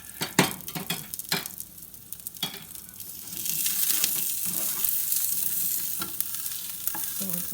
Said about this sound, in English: So let's check on our egg sandwich.